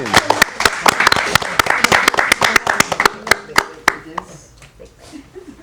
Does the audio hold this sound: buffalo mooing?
no